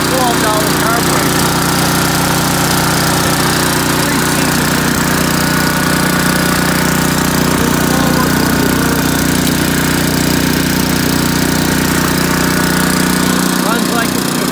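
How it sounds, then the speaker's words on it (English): Honda HS55 snowblower engine with an aftermarket Chinese carburetor roaring steadily at wide open throttle, loud and close, a continuous even drone with no surging across the whole stretch. "Let's see what happens when I push the throttle wide open."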